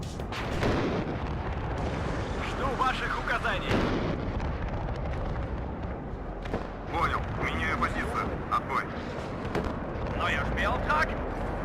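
Artillery barrages and explosions from the military strategy video game WARNO/Wargame, a steady dense rumble of booms and bursts with sharper impacts scattered throughout, under excited talk from players.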